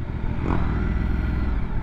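A Ducati Multistrada V2 motorcycle engine runs with a steady, throbbing twin-cylinder drone, loud and close, pulsing evenly through the whole short stretch with no speech.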